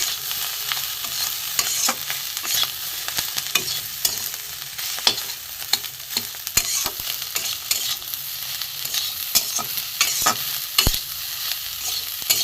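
Bitter gourd, potato and fish roe stir-frying with turmeric, cumin, red chilli powder and grated ginger, a close sizzle broken by frequent sharp clicks and scrapes of the spatula against the pan.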